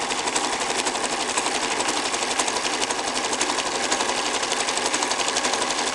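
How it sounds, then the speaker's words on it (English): A sewing machine runs continuously and steadily, stitching down the back seam of a fabric piece at close range with a fast, even mechanical chatter and no voices. "So I'm just going to sew down the back seam."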